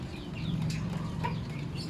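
Chicks clucking and peeping close by over a low background hum, with several short chirps scattered through a brief stretch and no speech.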